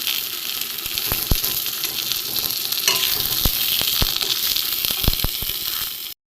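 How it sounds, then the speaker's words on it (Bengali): Pieces of pointed gourd (potol) frying in hot oil in a pan, a dense, continuous sizzle with several sharp clicks and taps from a utensil turning them, close and fairly loud throughout. "পটলগুলো একটু ভালো করে লাল করে ভেজে নেব।"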